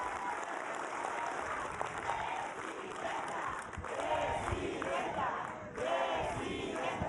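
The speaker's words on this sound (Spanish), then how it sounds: "Un aplauso fuerte, fuerte." Large outdoor political rally crowd in Ixtapaluca, State of Mexico, applauding and shouting to welcome the president, a loud continuous roar of clapping and cheers with voices mixed throughout.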